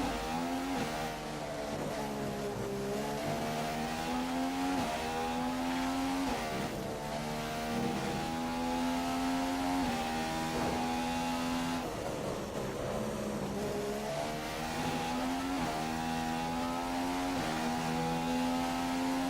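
An F1 car engine in the F1 2015 video game whines loudly at high revs throughout, its pitch climbing through the gears and dipping on shifts and braking for corners, steady and close with no talk.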